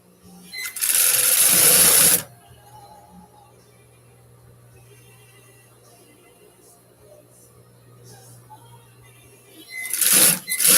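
A sewing machine stitching a leather clutch runs in two loud close bursts, one lasting about a second and a half near the start and a shorter one at the very end, with quiet workshop hum between.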